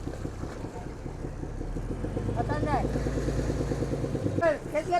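A motorboat engine drones steadily, rising slightly in loudness as it runs, while people talk over it at close range.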